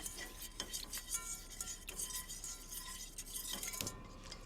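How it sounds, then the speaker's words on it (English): A pan of chocolate icing gets a quick stir, with a spoon scraping and clinking against the pan in short, repeated strokes close by. "I'm going to give it a quick stir"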